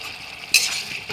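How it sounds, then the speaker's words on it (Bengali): Ginger and tomato sauté in a pan for tilapia curry, a soft sizzle with a sudden brighter hiss as a utensil stirs, brief and close. "এবার আমি 2-3 মিনিট আরও এইভাবে কষিয়ে নেব"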